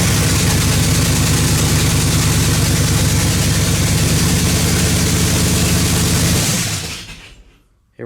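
A turbocharged 2500 truck engine with open headers runs loud and steady at a rough, rumbling idle, then cuts off abruptly near the end, leaving near silence.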